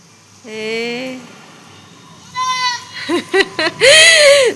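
A goat bleats several times nearby, long wavering cries followed by short quick calls and a final loud drawn-out bleat.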